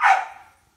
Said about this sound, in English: Doggy barking to come in